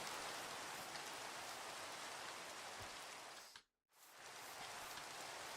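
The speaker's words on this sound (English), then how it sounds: "This rain is impacting my frames heavily." Steady rain pours in the Minecraft modpack GregTech New Horizons, a dense hiss that runs continuously before a brief sudden dropout to silence, then resumes at the same level.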